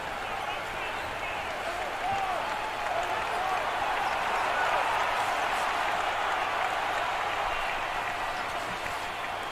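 A packed basketball arena crowd at an NBA game cheers and applauds in a dense, steady roar throughout, loud and continuous with no breaks.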